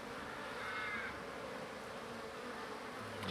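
Honeybees buzzing at the entrance of a small hive, a late-made swarm bringing in pollen; a faint, steady droning hum with no talking.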